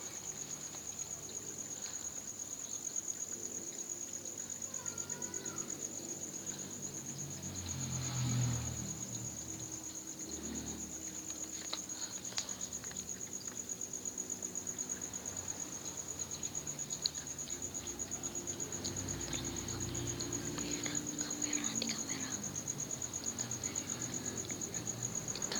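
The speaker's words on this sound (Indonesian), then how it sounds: "Di sini tidak ada apa-apa guys selain ada hantu bunyi jangkrik ya guys ya." Crickets chirp steadily through the night, a constant high trill running the whole time, with faint background rustles and no talking.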